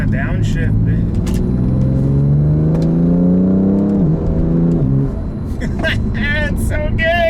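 A car engine revs loudly as it downshifts, pitch climbing through a long pull then dropping sharply, with voices speaking over the start and end.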